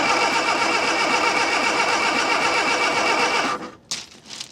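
A 1972 Austin Van, revived after 30 years, cranks and churns loudly with a dense, steady engine roar that cuts off near the end, leaving a few faint clunks and rattles.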